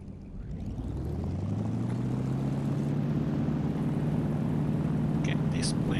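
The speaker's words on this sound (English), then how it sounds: "this plane pulls to the right, unlike some other planes that pull to the left when you're trying to take off" A propeller airplane in a flight simulator game revs up for takeoff, its steady droning engine growing louder and settling into a continuous rising tone, with a voice talking over it.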